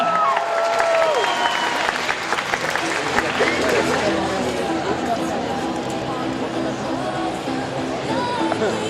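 A live audience at a Doctor Who show applauds and cheers, with steady clapping and whoops building into a broad, continuous wash of crowd noise while a voice speaks over it early on.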